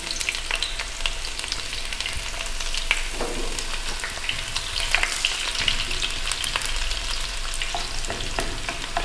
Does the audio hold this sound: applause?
no